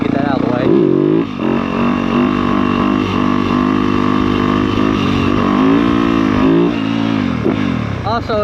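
A Yamaha YZ250F dirt bike revs hard through a wheelie, its high buzzing engine rising and falling in pitch continuously and loud close to the rider, with wind noise.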